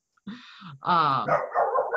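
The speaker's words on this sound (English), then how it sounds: "My dog is gonna yell at somebody right now, apparently." A pet dog at home barking and yelping sharply at someone during a live online class session, a couple of close, loud barks mixed with a voice.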